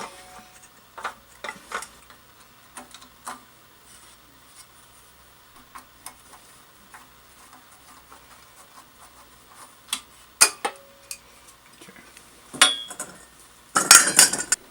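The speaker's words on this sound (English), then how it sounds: "So to start, I'm going to take the air cleaner off." Sparse light clicks, taps and clinks of parts being handled as the air cleaner comes off a generator being converted to propane, louder rattles near the end, with no talking.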